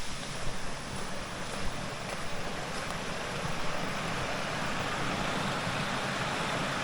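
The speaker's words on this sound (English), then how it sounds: "So as you can hear, there's plenty of water flowing." Winter creek water rushes steadily past a campsite, a continuous broad wash of flowing water heard up close with a little wind buffeting the microphone.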